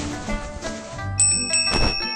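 A doorbell chimes in an animated xianxia comedy, bright ringing bell tones arriving partway through with a couple of repeated strikes over a busy background.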